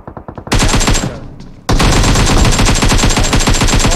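An AKM rifle fires long automatic sprays in PUBG, rapid cracking bursts with a brief gap before a second sustained, very loud stream of shots.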